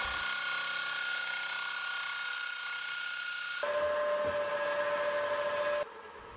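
A mini lathe faces a metal tailstock, a steady whirring machine drone that abruptly changes to a brighter tone with a sharp whine midway, then drops back near the end.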